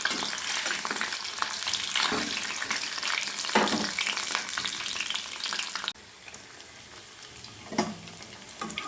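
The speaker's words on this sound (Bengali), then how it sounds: "এবার কড়াই আমি তেল গরম করে নিয়ে আমি পনিরটাকে আমি ফ্রাই করে নেব।" Paneer frying in hot oil in a kadai, a dense, bright crackling sizzle close by that eases slightly partway through, with occasional stirring knocks and no voices.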